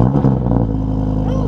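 A supercharged car exhaust rumbles loud and close, a deep throaty engine note rising briefly before settling into a steady idle.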